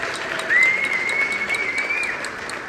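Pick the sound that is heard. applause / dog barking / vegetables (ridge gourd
applause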